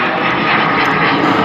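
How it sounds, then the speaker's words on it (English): A fixed-wing airplane passes overhead with a loud, steady engine roar that fills the whole moment without a break. "We got the fucking airplanes,"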